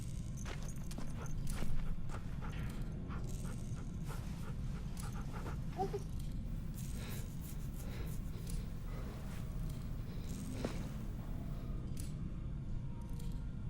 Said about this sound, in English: Oh, Rosie, best dog.